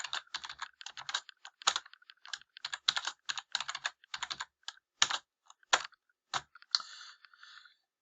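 Rapid clicks of a computer keyboard as a password is typed, a quiet close run of uneven keystrokes with brief pauses, no voices.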